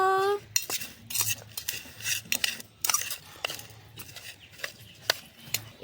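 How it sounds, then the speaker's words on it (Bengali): A spoon clinks and scrapes against a bowl, stirring boiled amla with salt, black salt, red chilli and turmeric powder for pickle, in quick uneven close-up strokes with no talk. "এর মধ্যে দিয়ে দেব লবণ, বিট লবণ, লঙ্কার আর হলুদ গুঁড়ো দিয়ে ভালো করে মিশিয়ে নেব"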